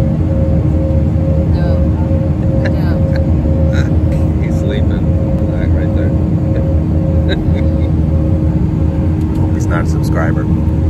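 Steady low rumbling drone of an airplane cabin in flight, constant and loud throughout, with people talking over it.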